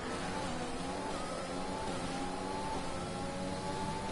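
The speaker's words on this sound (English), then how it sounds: "Yocto's car driving in the middle of the battle out in front" An F1 race car engine in an esports racing game at the Japanese Grand Prix, a steady sustained drone with a faint whine, held at moderate distance without a break.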